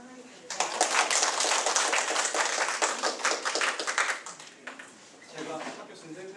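Audience at a lecture on welfare states and community welfare movements claps to welcome a guest speaker; dense, steady applause swells after a brief lead-in, then thins and fades with scattered claps near the end.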